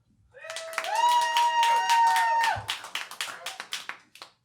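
Audience at a live comedy debate show laughing and cheering with sustained voices, then breaking into a burst of scattered claps that thins out toward the end.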